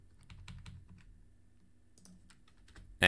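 Computer keyboard typing while editing React code, with a few quick bursts of soft key clicks spread through a quiet stretch, close and fairly faint, ending in a sudden louder clack.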